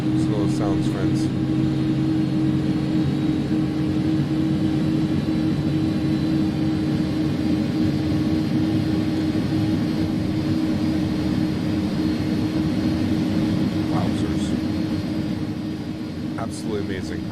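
Jet engines of an A300-600F freighter idle in the X-Plane 11 flight simulator, a steady loud drone with a low hum lasting throughout, with a few faint clicks near the start and end.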